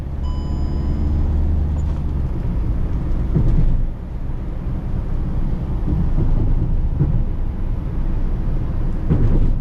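A 2021 Hyundai i20 Magna 1.5 diesel with manual gearbox, heard from inside the cabin while driving: a steady low engine drone and road rumble with a few brief louder swells, no talking.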